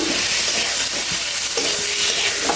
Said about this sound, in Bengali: তো বেগুনটাকে মশলার সাথে একটু নাড়াচাড়া করে